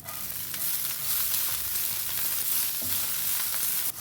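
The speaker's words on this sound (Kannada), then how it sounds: "ಒಂದು ಸ್ಪೂನ್ ಎಣ್ಣೆ ಹಾಕಿದ್ದೀನಿ ಈಗ ಕರಿಬೇವಿನ ಸೊಪ್ಪನ್ನು ಹುರ್ಕೊಳ್ತಾ ಇದ್ದೀನಿ" Curry leaves frying in a spoonful of oil over a low flame, a dense, steady crackling sizzle close up with faint stirring scrapes, no voices.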